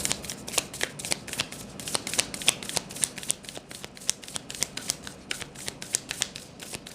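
Tarot cards being shuffled close up, a steady run of crisp riffling flicks and slaps repeating every fraction of a second with no talking.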